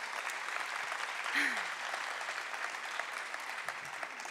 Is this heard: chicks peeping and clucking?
no